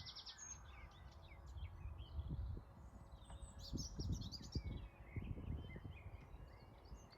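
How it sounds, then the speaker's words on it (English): Birdsong in a park garden: several bright chirps and short warbling phrases from birds a little way off, over a low background hum of traffic and a few soft knocks. "but also bird song"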